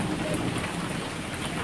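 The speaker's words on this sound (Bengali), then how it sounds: "খুব বৃষ্টি হচ্ছে।" Heavy rain pours steadily outdoors during a storm, a dense, continuous hiss of drops close by with no voices.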